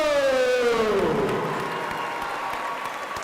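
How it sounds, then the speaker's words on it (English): A crowd at a high school slam dunk and three-point contest breaks into applause and scattered cheers as a tonal sound fades at the start, the clapping continuing evenly. "let's have a big round of applause"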